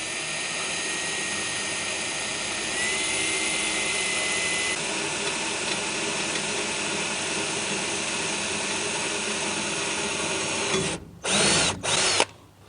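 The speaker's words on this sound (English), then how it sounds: "So we're going to drill a pilot hole" A power drill bores a pilot hole, whining continuously and loudly for about eleven seconds, then stopping and starting in a few short bursts.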